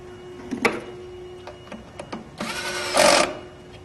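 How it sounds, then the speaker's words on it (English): An electric screwdriver drives screws into a plastic power supply base, making short whirring bursts and clicks, with the loudest sustained run near the end. "You don't want to over torque these screws. We are screwing into the plastic base."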